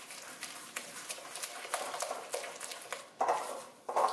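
Eggs and cane sugar whisked by hand in a bowl make rapid, light tapping and scraping strokes in a steady rhythm. The whisking is close and fairly quiet, with a few louder clinks near the end.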